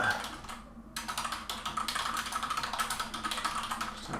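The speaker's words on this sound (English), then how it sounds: "Just type that in." Fingers type on a computer keyboard in a fast, steady patter of close key clicks after a brief pause, with no talking.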